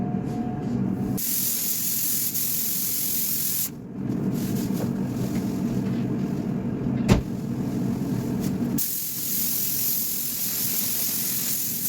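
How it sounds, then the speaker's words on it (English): Spray gun applying 2K primer to a Citroen C3 Picasso's body panels, a steady loud hiss of atomised paint that runs continuously, stopping briefly twice before resuming, with a constant fan roar beneath it. "So I've mixed up some 2K primer in the gun. I'm going to put this on just now"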